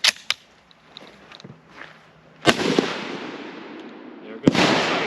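Sharp, loud shots from a bolt-action Jungle Carbine rifle fired outdoors, a few spaced cracks each followed by a long rolling echo, with quieter handling noises between them.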